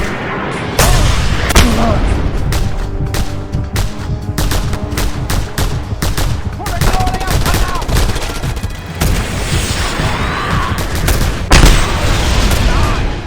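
Dense, loud gunshots in the video game Just Cause 2, rapid overlapping shots and bursts firing almost continuously with occasional heavier booms mixed in, close and chaotic.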